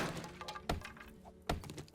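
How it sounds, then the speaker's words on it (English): A hatchet smashes an object open in a video game: two sharp, loud breaking impacts about a second apart, each with a crunchy crack, over a low background hum. "this is the best, cheapest way to break things open is your hatchet"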